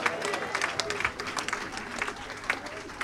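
A church congregation at a Sunday service applauding and cheering, dense continuous clapping with crowd voices and a speaking voice mixed in, moderately loud and steady.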